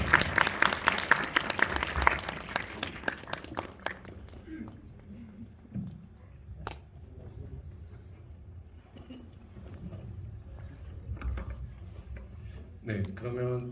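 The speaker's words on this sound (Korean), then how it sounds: "박수로 맞이해주세요." A cinema audience at a Korean film screening Q&A claps to welcome two film directors, a burst of brisk applause that fades after a few seconds into a quiet room with scattered footsteps, small noises and murmuring voices.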